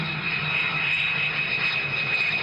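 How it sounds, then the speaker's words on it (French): A jet airplane engine from the film THX 1138 roars continuously and loudly, a dense sustained whoosh with a faint high whine, constant in level with no talking. "C'est le bruit d'un jet."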